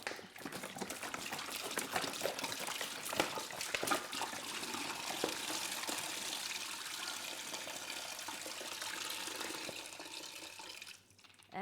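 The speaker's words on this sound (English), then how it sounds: "I've got my remaining 2 liters of water to go in." About two liters of water is poured steadily into a plastic brewing bucket for beer, a continuous splashing gush that fades out near the end, faint and close.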